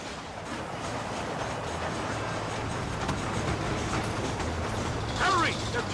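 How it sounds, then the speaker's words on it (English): A train rolls steadily along in the Red Dead Redemption video game, a continuous rumbling mechanical clatter with faint rail clicks throughout, and a brief squeal near the end. "You have to go out there and stop the train before it crosses the bridge."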